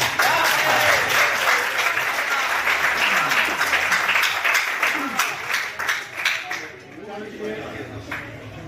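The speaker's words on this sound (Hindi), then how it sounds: "आप सब अपने की एक दफा तालियां बजाएं" Sustained crowd applause at a poetry mushaira, loud and dense, fading toward the end into a few scattered claps.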